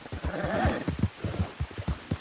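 Hoofbeats of a horse in the Red Dead Redemption 2 video game, a quick run of clip-clop steps with a possible snort or whinny, close and moderately loud, with game ambience behind and no talk.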